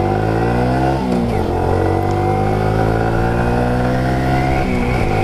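An Afaz Kencana Sport 115 budget motorcycle with a Suzuki-derived engine accelerates on a test ride, its loud, steady engine note climbing in pitch, dropping briefly at a shift, then rising again throughout.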